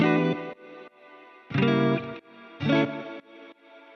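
Chords pulse in short bursts, warbling and shimmering with a chorus-like wobble and trailing echoes that fade into the gaps between them.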